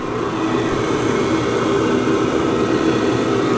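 An engine blower roars in a steady, loud, close whoosh of rushing air and machine drone, unbroken for a few seconds with no voices.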